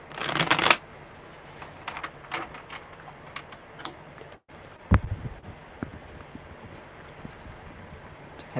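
Tarot cards being shuffled: a loud riffle burst at the start, then scattered soft card taps and slides over a quiet room, with one sharper snap midway.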